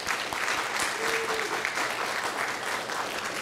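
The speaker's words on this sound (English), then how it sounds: "Let's give them a round of applause." Sustained applause from the audience at a conservation award presentation, a full, even wash of clapping with no speech over it.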